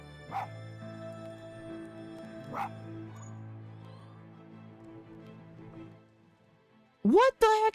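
A dog's bark plays back twice as short sharp yips over a low steady hum, followed by a louder whimpering, wavering dog vocalization near the end, with a person speaking in between.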